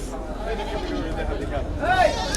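At a busy goat market, a goat bleats loudly near the end over a dense hubbub of people talking and crowd noise.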